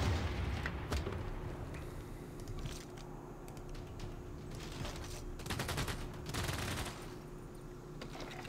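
Bursts of gunfire and rattling volleys from a Civilization VI battle, mid-level and continuous over a low rumbling game background, with denser clusters of shots near the middle and end.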